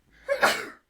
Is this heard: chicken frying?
no